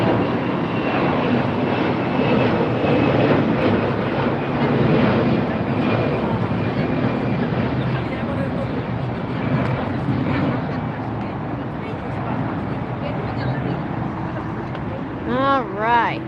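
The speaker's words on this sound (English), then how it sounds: "We do have an Allegiant taking off on our side." An Allegiant airliner takes off at LAX, a sustained broad jet roar steady throughout, with voices talking over it.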